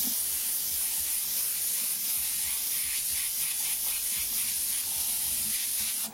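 Paint sprays from an airbrush or spray gun in a wide, dusting pattern to add texture to a stone surface, a steady close hiss held for several seconds with a soft rubbing undertone and no speech.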